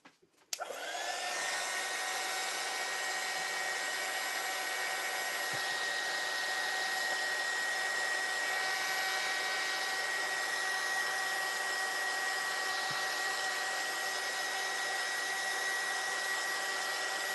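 A hair dryer blows on mixed media artwork. It clicks on and then holds a steady, loud, close whir with a constant motor whine and no talking.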